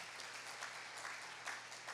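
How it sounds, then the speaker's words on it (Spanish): A worshipping congregation gives the Lord a strong round of applause during a family church service, sustained clapping with a soft low hum beneath it. "Dele un fuerte aplauso al Señor."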